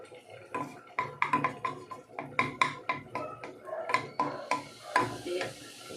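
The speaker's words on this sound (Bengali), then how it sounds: "কাজু কিশমিশ একটু নাড়াচাড়া করে নিচ্ছি" Cashews and raisins stirred in ghee in a kadai, with repeated clinks and scrapes of a utensil against the pan in an irregular rhythm, close and moderately loud.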